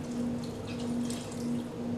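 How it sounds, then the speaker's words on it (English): Apple cider vinegar poured into bone broth, giving a steady, continuous liquid trickle and splash with a faint hum beneath, close and fairly quiet. "you should put a half cup, a nice half cup of apple cider vinegar, and pour it in there"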